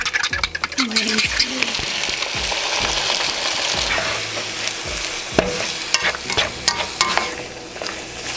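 Eggs sizzle loudly in a hot pan, with stirring and scraping clatter throughout and occasional bumps against the pan.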